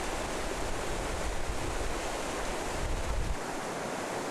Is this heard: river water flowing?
yes